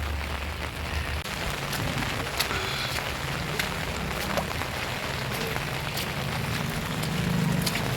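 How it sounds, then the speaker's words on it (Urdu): Heavy winter rain pours onto a street in Duki, a dense, constant hiss of drops hitting the ground with no break and no voices, holding steady and swelling a little toward the end. "بارش کا پانی زیادہ ہو گیا ہے۔"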